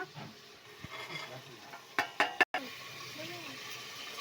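A spoon stirs turmeric, salt and rajma beans together in a cooking pan. A few quick clinks and scrapes come close together near the end, with a voice speaking softly in the background.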